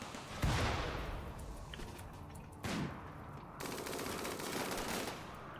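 Rapid weapon fire in a sci-fi mech battle game, with several bursts of machine-gun-like shots breaking out one after another, loud and close, each burst followed by a lingering rumble.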